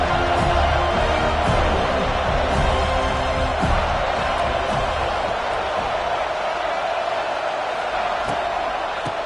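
Dense, steady roar of a stadium crowd cheering during a college football video game, loud and continuous throughout, with faint voices and whoops scattered through the wash of noise.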